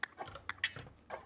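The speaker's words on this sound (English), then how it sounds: "a lo-fi percussion loop that I put thermal and portal on" A quiet lo-fi percussion loop processed with Thermal and Portal effects: soft, scattered clicks and crunchy ticking hits in an uneven pattern, thin and distorted.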